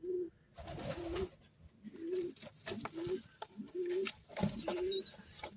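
A pair of breeding pigeons or doves coos in repeated low, throaty phrases at close range, each call rising and falling in a steady rhythm, with faint chirps and soft rustling between them.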